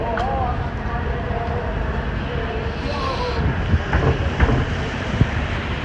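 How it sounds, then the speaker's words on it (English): Steady, broadband wind roaring outdoors during a New York City thunderstorm, rumbling constantly with a few stronger gusts; faint voices can be made out underneath. "it just got a little windy outside"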